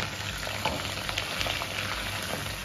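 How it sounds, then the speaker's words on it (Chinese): Large prawns fry in a wok with scallion and ginger for a prawn and napa cabbage dish, making a steady, fairly loud sizzle with scattered crackles and spits throughout, and no one speaking. "现在可以把这个大虾下到锅里"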